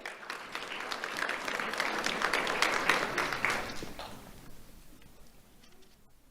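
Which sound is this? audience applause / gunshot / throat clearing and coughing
audience applause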